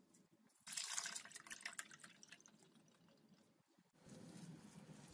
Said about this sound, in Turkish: Şimdi sirkemi süzüyorum.